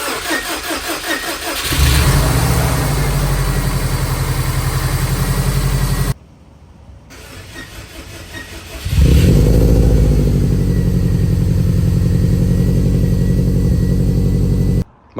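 A 1996 Subaru Impreza with a swapped-in WRX engine fitted with forged pistons, started for the first time after a rebuild: the starter cranks, the engine catches into a loud, steady idle, cuts out, then is cranked again and settles back into a rough, even idle.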